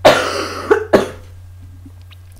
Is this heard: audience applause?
no